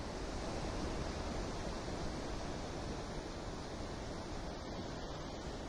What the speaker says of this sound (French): Peu à peu, le grondement de l'eau se fait entendre